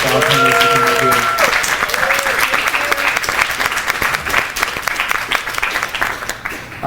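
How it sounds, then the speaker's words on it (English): An audience at a tech career panel event applauds the panelists with loud, sustained clapping and some cheering, while a voice talks over the start before the applause gradually thins out. "y'all please give a round of applause for our panelists who came up here."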